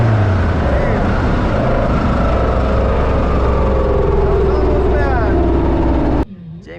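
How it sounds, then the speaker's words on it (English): Drag race cars launching hard down the strip, with clutch-kick launches and loud, dense engine roar running steadily throughout before cutting off abruptly near the end; a voice is faintly present under the noise. "Jamie with the clutch kick. They're ripping. This is a drag race."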